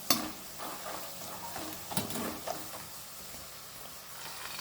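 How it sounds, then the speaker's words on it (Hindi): Cut coconut pieces fry in a pan for a raw-onion chivda, a faint low sizzle broken by a few soft stirring scrapes and clinks, with no talking. "तो अब इसमें हम डालते हैं पहले कोकोनट, जो हमने कट कर कर लिया है।"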